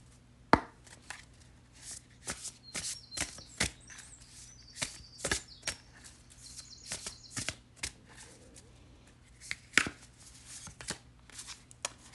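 Oracle cards being shuffled in the hands, a run of soft, crisp riffling and tapping bursts in an irregular rhythm, close and fairly quiet with no talking.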